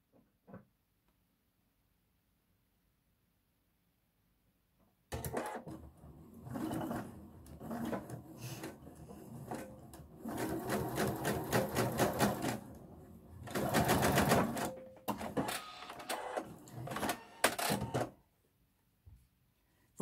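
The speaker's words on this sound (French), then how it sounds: "Alors, je fais bien attention de piquer." A sewing machine stitches bias binding onto a neckline, starting after a quiet pause with bursts of rapid mechanical needle clatter, short runs and longer steady stretches, loud and close, stopping briefly between runs.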